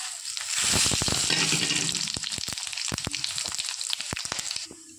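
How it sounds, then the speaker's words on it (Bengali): Panch phoron, dried chilli and bay leaf tempering in hot oil: a steady, close sizzle with crackling pops and spatters that fades away near the end. "ওই তেলেই ফোড়নে দিয়ে দেবো আমি 5 ফোড়ন, শুকনো লঙ্কা আর তেজপাতা"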